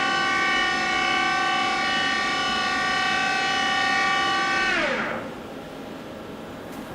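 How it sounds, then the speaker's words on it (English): The sub spindle of a 1997 Hardinge Conquest T-42 big bore CNC lathe runs at 2,000 RPM with a loud, steady multi-tone whine, then winds down in pitch and fades to a low hum. "Now we'll run the sub spindle"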